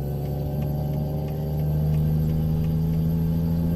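A heavy truck's engine brake drones steadily in Euro Truck Simulator 2, a continuous low engine hum with a strong tonal rumble that grows slightly louder partway through, and no talk over it.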